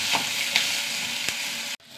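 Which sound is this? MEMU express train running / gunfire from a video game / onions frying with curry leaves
onions frying with curry leaves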